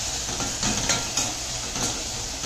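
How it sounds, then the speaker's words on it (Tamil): Turkey berries sautéing with turmeric in a pan, a close steady sizzle with soft stirring scrapes recurring every half second or so. "சுண்டைக்காயை சேர்த்து நல்லா வதக்கிக்கணும்."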